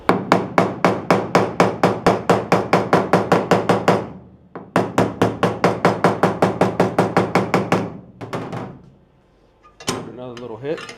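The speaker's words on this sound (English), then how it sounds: "I'm also going to take my body hammer" A body hammer strikes the sheet metal of a Mustang trunk lid in a fast, even string of close, ringing taps that lasts several seconds, pauses briefly, then resumes, with a short voice near the end.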